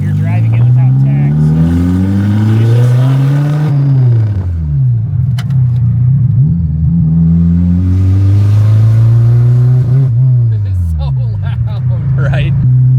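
A Toyota MR2 with a swapped K24 engine revs repeatedly, its pitch rising and falling in loud, throaty surges through the exhaust, close by and continuous.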